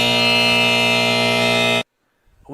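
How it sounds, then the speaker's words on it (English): A long, loud, harsh buzzer in a sports radio studio drones at full volume, then cuts off abruptly into silence, with a faint sound creeping in afterward. "That was a long buzzer."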